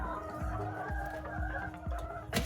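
Layer chickens on a farm cluck in short repeated calls, about one every half second, close and fairly soft over a faint background hum, with a brief sharp noise at the end.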